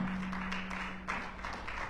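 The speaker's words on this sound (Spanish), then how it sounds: "¿Cuánto dan un aplauso fuerte?" Church congregation applauding during a sermon, a steady wash of clapping at moderate level with a faint sustained tone beneath it.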